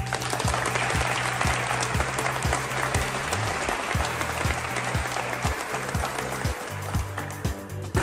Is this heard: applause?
yes